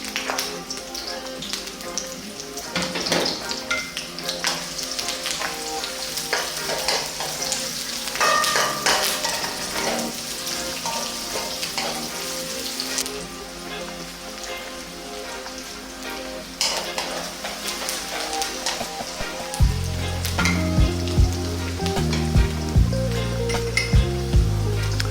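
A cup of chopped onion frying with pandan and curry leaves in a pan for Sri Lankan chicken curry, a steady close sizzle under frequent clinking, tapping stirs, with louder, busier frying toward the end.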